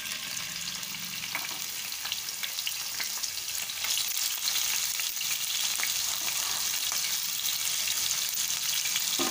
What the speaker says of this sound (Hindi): तेल गरम हो गया है,